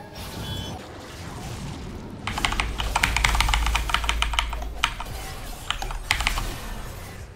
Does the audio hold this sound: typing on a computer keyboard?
yes